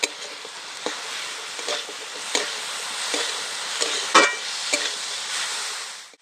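Banana flower curry with soaked chickpeas sautéing in a pan, a soft steady sizzle broken by scattered spoon scrapes and clinks near the middle, no voices.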